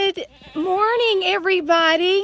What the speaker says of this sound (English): You can probably hear the goats in the background.